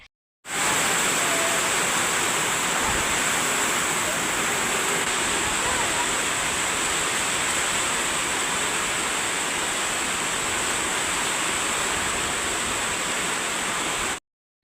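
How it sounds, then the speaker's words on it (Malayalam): Heavy rain pours down in a dense, steady roar of broadband hiss that stays loud and unbroken throughout, with no voices. "അപ്പോഴത്തേക്ക് നല്ല മഴയായിട്ടാ, പെരും മഴ പെയ്യുന്നുണ്ടായിരുന്നു."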